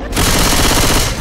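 A shotgun firing in Left 4 Dead 2, one loud, close blast filling the whole short moment with heavy noise.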